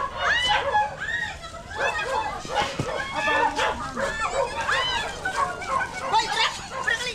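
A dog barks and yips repeatedly while several people talk over it in a busy outdoor scene near a Philippine cobra.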